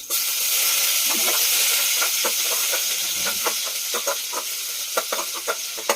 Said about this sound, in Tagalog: may mantika na yan. Gisa-gisa na lang tayo